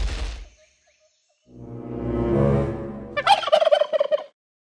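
A human voice imitates a turkey gobbling for a toy turkey caller, with a low rising drone followed by a rapid, loud burst of warbling gobble pulses, heard alone without other talk.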